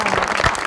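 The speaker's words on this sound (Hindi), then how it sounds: "यार मैडम जी के लिए तालियां।" Applause for a woman guest on a talk show set, a brief burst of close, dense audience clapping.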